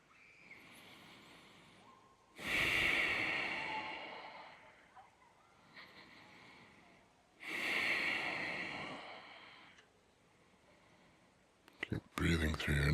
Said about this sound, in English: Keep breathing through your nose and then release it.